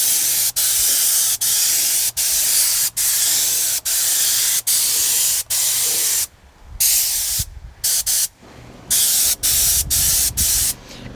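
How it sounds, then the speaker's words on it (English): A wide fan sprayer hisses out light coats of dressing onto car plastics in a series of short, evenly spaced bursts, loud and close, with a few quicker, choppier sprays toward the end. "we're just gonna give it a really light coat as if you're spray painting, but with this dressing."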